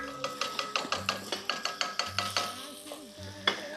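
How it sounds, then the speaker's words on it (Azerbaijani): Small beef cubes browning with onions in a pan, rapid rhythmic scraping and clacking of a spatula stirring over a low sizzle, close and regular for most of the stretch. "bunu da göndərirəm soğançanın yanına. Burada yavaş-yavaş soğança ilə birlikdə qovrulsun"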